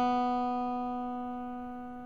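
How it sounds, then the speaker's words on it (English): A single sustained guitar note with its full harmonic overtones restored after a filter is removed, ringing clearly alone and slowly decaying. "now we can hear it as a guitar"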